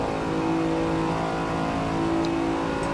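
A Lamborghini Diablo VT engine accelerates hard on the Nordschleife in Assetto Corsa, a steady loud rising drone that keeps pulling without a break.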